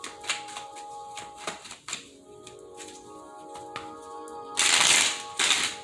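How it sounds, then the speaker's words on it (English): Tarot cards being shuffled in quick riffling bursts and soft slaps, close by, with a louder ruffling burst near the end and no speech. "Let's go ahead and get 5 shuffles for cardinal signs."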